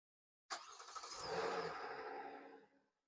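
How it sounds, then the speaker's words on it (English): A 2022 Kia Telluride's engine starts by remote start, a sharp crank onto a steady idle that fades out after about two seconds, heard close with no talking. "you do get remote start with this car"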